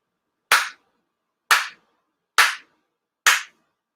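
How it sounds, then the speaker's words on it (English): Four sharp ritual hand claps at a Shinto memorial service, evenly spaced about a second apart, crisp and close with silence between each clap. "地動拝礼 4 sincere claps"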